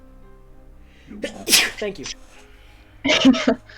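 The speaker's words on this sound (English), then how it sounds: "I'm gonna sneeze in like 3 seconds here." A single loud, close sneeze bursts out midway, followed by a quick spoken reply.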